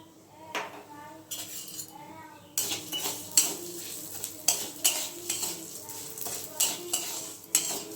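Red amaranth greens and lentils frying with salt, turmeric and spices in a pan over medium-low heat, with a soft sizzle under repeated scraping and clinking of a metal spatula stirring against the pan.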